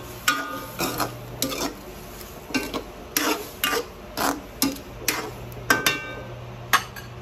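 A spoon stirs shrimp curry with liquid seasoning in a pan, making a regular series of close, distinct scraping and clinking strokes over a faint simmer, with no speech.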